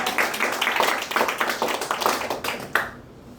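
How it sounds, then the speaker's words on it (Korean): Congregation at a seminary opening service clapping briefly, a quick run of close, distinct hand claps that ends abruptly after about three seconds. "박수하면 됩니다"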